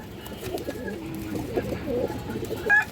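Pigeons at a bird sale coo softly and repeatedly, low throaty burbles close by over a quiet background.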